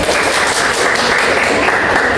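Students in a classroom guidance lesson clap together, a dense, steady patter of many hands held at a constant level for a couple of seconds.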